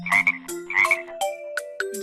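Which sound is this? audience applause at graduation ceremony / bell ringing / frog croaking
frog croaking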